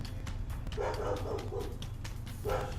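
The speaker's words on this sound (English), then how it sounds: "I'm gonna turn the microphone off for a second until the dog calms down in the background" Dog barking in the background of a home gaming session, a few yips and woofs at moderate distance over steady low hum, coming in short groups with a pause between.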